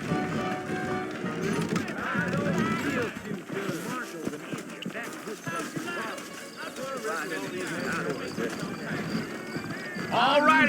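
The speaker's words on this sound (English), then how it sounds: "I got the horses saddled up and ready out front." Horse hooves clip-clop at a steady trot in the Red Dead Redemption video game, moderately loud beneath almost continuous conversation between characters, with a brief whinny near the end.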